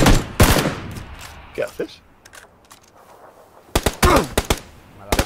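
Gunfire in PlayerUnknown's Battlegrounds: sharp bursts of automatic shots crack out near the start and again in a dense, rapid volley toward the end, with people talking between and over the shooting.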